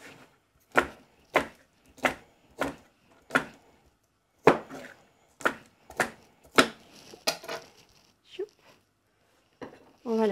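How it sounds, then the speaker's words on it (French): A knife chops the green parts of asparagus into small pieces on a board, a run of about a dozen crisp, evenly spaced close-up thuds that thin out toward the end, with quiet talk between. "on les coupe en petits morceaux."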